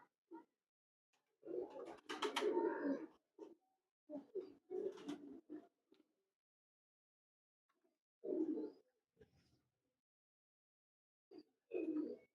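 Rare-breed Teddy pigeons cooing in short throaty bursts, a few close, soft calls separated by quiet gaps, with no talk.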